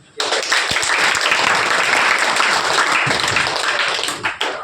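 Loud, dense applause from an audience at a Hindi-language welcome event for top students, steady clapping that swells in immediately and holds for several seconds before tapering slightly at the end.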